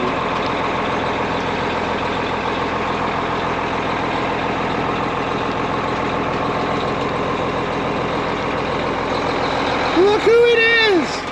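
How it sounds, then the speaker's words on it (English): A truck rolls along a rough dirt path in Hawaii, its engine rumbling steadily and close throughout, with a brief rising tonal whine near the end and some voices mixed in. "Take this truck down this real path here"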